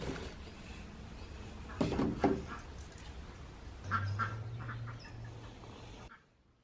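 Pet ducks quack noisily in a backyard at breakfast time, with a couple of loud bursts of quacking over ongoing rustling, close by, before the sound cuts off.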